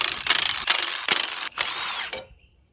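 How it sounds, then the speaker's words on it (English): Metallic clunks, scrapes and ratcheting clicks come in several bursts as an axle shaft is drawn out of a Coleman four-wheel-drive axle on a 1952 International L-122 truck, heard close and alone before fading to near silence. "Axle shaft coming out."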